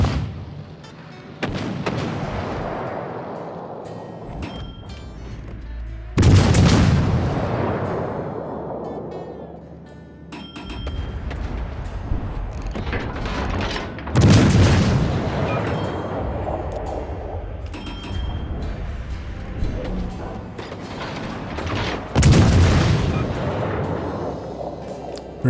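Heavy naval gun salvos in World of Warships, from the cruiser De Grasse under fire over a rock: four booming blasts spaced several seconds apart, each decaying into a long rumbling tail, with quieter shots and rumble between, no talk.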